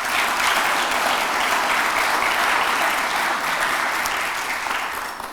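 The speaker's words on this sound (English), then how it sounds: "Let's give all of them a round of applause." Audience at a symposium talk gives a sustained round of applause, a dense, even wash of many hands clapping that holds steady and then begins to fade at the end.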